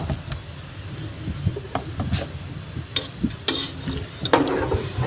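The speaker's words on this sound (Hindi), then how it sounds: "चम्मच की मदद से हम चावलों को अच्छी तरह मिक्स कर देंगे" A spoon stirs beef yakhni pulao rice in a cooking pot, with steady scraping and rubbing strokes and light clinks against the metal over a soft background hiss, no voices.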